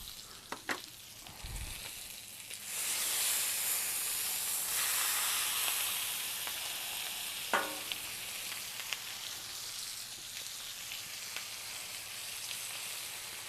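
Ribeye tomahawk steak on a Blackstone griddle sizzles loudly right after a thud as it is flipped, settling into a steady close hiss with a few scraping clicks from the spatula and no talking.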